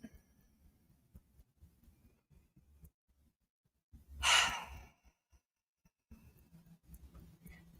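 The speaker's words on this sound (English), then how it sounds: "take a nice deep breath, exhale through your mouth" A single deep breath drawn in and let out through the mouth in a quiet room, a soft, breathy exhale rising clearly from near silence and fading after about a second.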